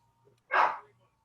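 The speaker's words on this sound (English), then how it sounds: "Oh, somebody's got a doggy." A single short dog bark, fairly near and fairly loud, rising out of near silence in a room.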